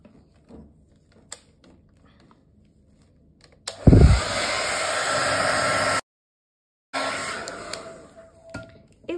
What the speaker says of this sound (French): je vais sécher tout ça avec mon vieux sèche-cheveux